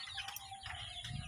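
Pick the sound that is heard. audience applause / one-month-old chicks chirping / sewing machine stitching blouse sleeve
one-month-old chicks chirping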